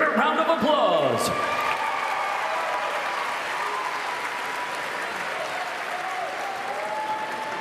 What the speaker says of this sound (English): Please give the band a big state tournament round of applause.